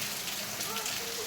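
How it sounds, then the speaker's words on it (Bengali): Heavy rain falling outdoors, a dense, even hiss of drops on surfaces, steady and close for a brief moment. "বৃষ্টি পড়ছে খুব আজকে।"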